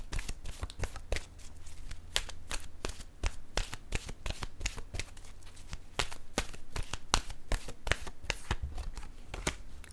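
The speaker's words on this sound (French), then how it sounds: "Je vais piger maintenant une carte de mon oracle de l'âme intuitive pour ce jeu." Oracle cards are shuffled close up in a continuous run of crisp riffling flutters and slaps, repeated at an irregular pace with no talking.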